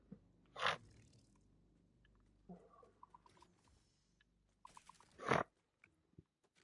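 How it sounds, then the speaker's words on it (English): Two sharp sneezes from a single person, about five seconds apart, each a quick loud burst that drops back to near silence, with faint clicks and small movement noises in between. "Oh, fuck these sneezes"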